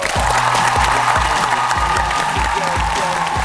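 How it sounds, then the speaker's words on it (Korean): A studio audience on the KBS talk show Hello claps to welcome a guest, a bright, steady wash of applause with a bouncy music cue playing underneath. "큰 박수 부탁드리겠습니다"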